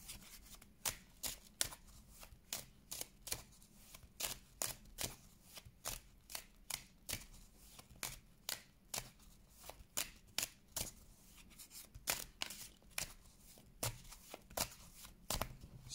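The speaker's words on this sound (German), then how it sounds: "Ich werde jetzt einmal ein paar Karten legen, einfach auf die Situation und was gerade so los ist." Tarot cards shuffled in repeated crisp riffling bursts, steady and close, running without pause throughout with no voice over them.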